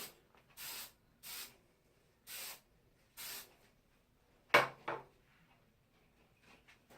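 Four short bursts from an aerosol hairspray can hiss in a steady rhythm, followed by a couple of sharper knocks, close and fairly quiet.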